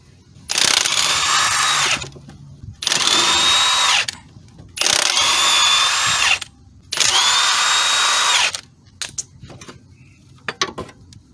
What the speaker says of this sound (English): 12mm bolt here for the AC compressor.